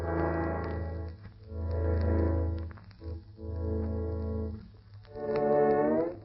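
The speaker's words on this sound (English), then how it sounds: "That sound you hear is not the wind whistling through the keyhole, but some tones whistling through a vibrolin." A vibrolin, an electric steel guitar instrument, gives long, swelling, wavering tones with a low hum beneath them, rising and fading in several slow waves on an old radio broadcast.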